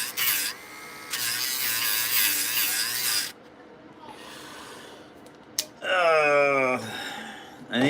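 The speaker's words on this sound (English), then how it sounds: "I think my Dremel is dying" A malfunctioning Dremel rotary tool runs on a paper model build, giving a harsh, uneven whir in long stretches that cut out and restart, with wavering, rising motor tones near the end.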